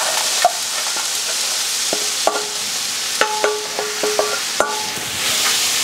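Mung beans fry in a little oil with salt, giving a steady broadband sizzle broken by sharp clicks and short tonal scrapes of a utensil against the pan, close and moderately loud, with no talking.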